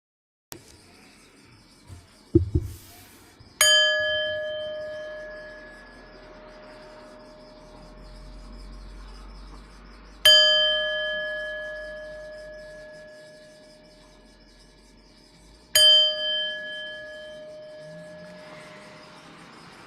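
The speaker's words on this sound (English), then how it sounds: "I will ring the bells when it is time to come out of the practice." Meditation bells struck three times at a mindfulness sitting, each a clear, bright strike with a long ringing decay, evenly spaced and alone in a quiet room, with a faint rustle before the first.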